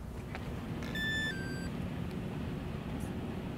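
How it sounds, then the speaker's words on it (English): Walkera V120D02S flybarless mini RC helicopter's ESC giving a short sequence of high electronic beeps right after the battery is plugged in, close and clear over a steady background hum. "Let the ESC beep"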